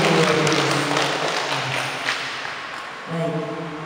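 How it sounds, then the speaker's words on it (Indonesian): An audience at an Indonesian training session applauds the day's presenter: a dense, steady wash of clapping that starts full, eases slightly, then swells again near the end. "mari kita beri tepuk tangan kepada narasumber kita pada hari ini"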